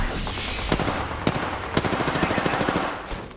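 Rapid automatic gunfire from a battle royale shooter game, Apex Legends, loud and close, with dense bursts of shots and sharp cracks over about three seconds, no talking.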